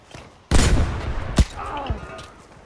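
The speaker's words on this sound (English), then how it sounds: "Big gunfire over here where I am." A sudden burst of heavy gunfire erupts in the video game Battlefield V, Team Deathmatch mode, followed by a sharp single shot and a fading echo, loud and close.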